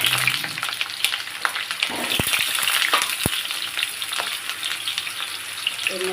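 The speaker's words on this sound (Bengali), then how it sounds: "ভালো করে ভেজে নেব।" Potatoes fry in hot mustard oil with a constant close hiss and crackle, broken by a few sharp clicks as they are moved about, with no voices.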